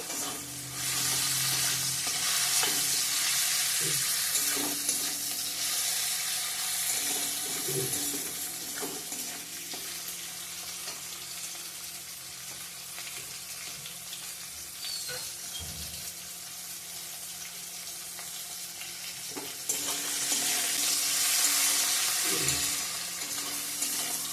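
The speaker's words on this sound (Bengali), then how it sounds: "আর একটু ভেজে নিব ফোরনটা" Whole spices (phoron) and tomato fry in hot oil for a fish curry with taro and potato, a steady broad sizzle lasting throughout with occasional scraping stirs, loudest near the start and again toward the end.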